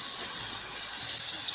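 Water poured onto frying spice masala of turmeric and chili powder for a chicken curry, giving a steady, loud hissing sizzle with no pauses.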